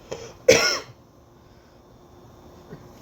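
A single close, sharp cough bursts out after a brief throat noise, then fades into quiet room tone during a podcast.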